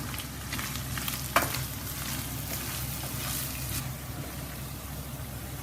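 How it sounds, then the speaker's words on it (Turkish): Grated onion fries in melted butter in a pan, giving a steady dense sizzle with stirring scrapes and one sharp clack partway through. "3 adet rondodan çektiğim soğanı ilave ediyorum. İyice kavuracağım şimdi."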